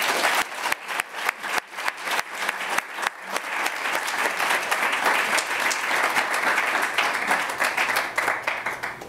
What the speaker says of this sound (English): And so for all those reasons, let's give a big round of applause to Maria Orishana.